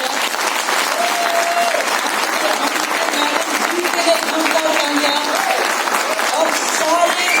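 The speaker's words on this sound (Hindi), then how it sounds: "फिर मैं अपने great leader mister Manik Yadav के लिए जोरदार तालियां" A crowd at a speech event at Gymkhana Club, Aurangabad, breaks into loud, sustained applause for a leader, continuous clapping throughout with voices mixed in.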